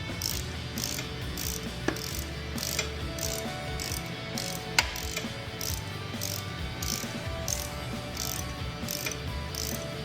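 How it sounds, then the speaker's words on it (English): A hand ratchet tightens the rear brake caliper bolts on a 2016 Harley Davidson Touring motorcycle, producing steady rapid clicking throughout, with a few sharper metallic knocks along the way. "here I am, just like I said, tightening the 2 caliper bolts back down."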